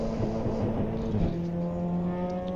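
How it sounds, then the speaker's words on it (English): Race car engine in the Assetto Corsa EVO sim racing game, a steady close droning hum holding a low pitch for a couple of seconds with no talk over it. "Good bit of engine noise though."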